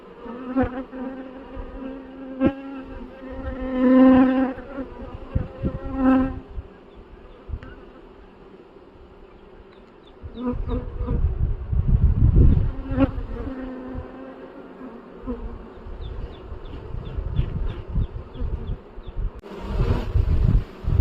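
Dense, continuous buzzing of a honeybee swarm close by, rising and falling in intensity with occasional rustling and knocks from hive frames, no voices.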